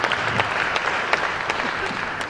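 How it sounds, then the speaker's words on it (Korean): Warm audience applause at a gymnastics instructors' training session and forum, steady dense clapping from a seated crowd lasting a couple of seconds. "나오실 때 뜨거운 박수 부탁을 드리겠습니다"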